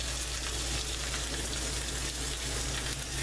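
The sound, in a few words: New York strip steak searing in a cast iron skillet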